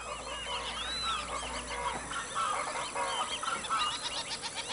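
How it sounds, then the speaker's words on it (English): Several ducks on the Orinoco plains call with repeated nasal honks and quacks that overlap in an irregular chorus, moderately distant over a low outdoor background. "Different species of duck,"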